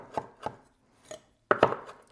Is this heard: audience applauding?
no